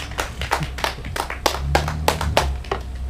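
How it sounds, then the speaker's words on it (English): A comedy club audience applauds at the end of a stand-up set, a steady patter of close hand claps with no talk over it. "Let's give him a nice round of applause."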